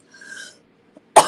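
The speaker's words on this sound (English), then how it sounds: "I'm getting so tired of this cough." A single loud, harsh cough bursts out near the end, close to the mic, after a stretch of faint background hum and a tiny click.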